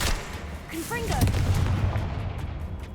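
A Confringo blasting spell goes off in Hogwarts Legacy on PS5: a short rising magical whistle, then a loud, booming burst that rumbles and slowly fades over a low, steady game background.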